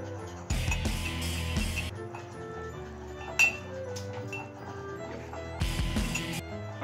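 A metal spoon stirring hot chocolate paste in a cup, giving repeated bright clinks and scrapes against the cup in irregular bursts, close by over a faint background hum, with no speech.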